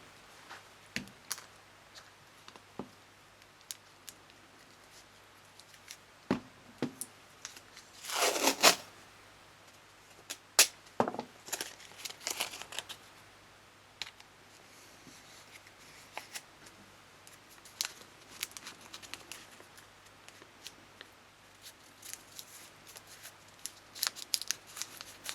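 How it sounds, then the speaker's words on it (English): Tape for a Kydex holster, pulled and torn with one loud rip, then pressed on with scattered crisp crinkles and clicks at close range over about twenty-five seconds. "So let me get that taped on."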